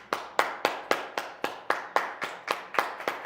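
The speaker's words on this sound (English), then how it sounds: "Gib was the only one clapping" A single person clapping alone, about a dozen crisp, close hand claps in a steady, slightly uneven rhythm with short decays between them.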